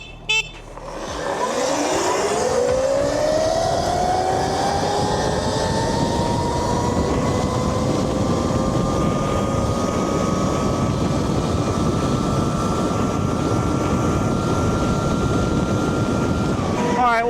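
ETM RTR and Talaria XXX electric dirt bikes accelerate hard, their motors rising into a loud, sustained whine that climbs in pitch and then holds steady, with wind and road noise underneath.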